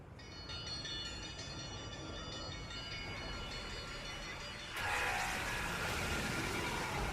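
A game train in Lost Odyssey rumbles steadily at a station, with a continuous mechanical drone that swells into a brighter, louder wash partway through, with no voices.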